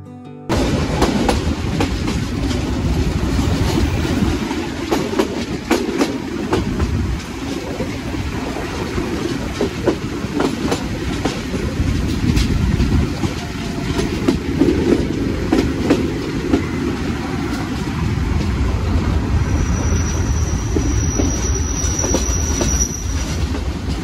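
The Parabat Express train runs on the Dhaka to Sylhet line with a loud, continuous rumble of wheels on rails, recurring clicks and squeals, heard close up from on board.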